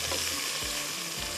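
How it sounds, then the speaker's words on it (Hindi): Onions frying with whole spices in a pan for beef khara masala, a quiet steady sizzle with a few soft stirring scrapes, heard close up and alone. "यहाँ पर प्याज जो है हमारे फ्राई हो रहे हैं"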